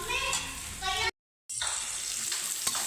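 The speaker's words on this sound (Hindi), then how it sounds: "तो डाल देंगे प्याज और प्याज को अच्छे से पकने देंगे" Onion sizzles in a hot pan with a steady, close frying hiss, broken by a short moment of complete silence before the crackle resumes.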